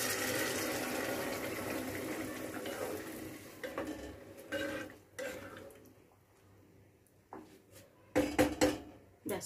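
Hot water being poured into a heavy-bottomed cooking pot while making Basanti Pulao, a steady watery rush for several seconds followed by lighter splashes and clinks of the pot, with no talking.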